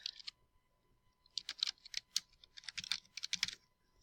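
Typing on a computer keyboard while entering a name into an online drawing document: bursts of quick, light clicking keystrokes close by, with a pause near the start and no talking.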